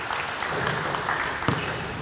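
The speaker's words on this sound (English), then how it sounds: "Let's give her a clap" Steady applause from a group at a netball coaching clinic, a dense continuous patter of clapping lasting about two seconds at moderate volume, with no talking over it.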